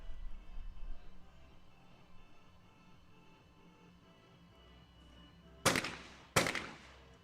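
Two sharp rifle shots ring out about a second apart at a shooting station, loud and close with brief echoing decay, after several seconds of quiet outdoor ambience.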